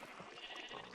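A single brief, faint sheep bleat from Minecraft, heard alone at a distance and without any speech.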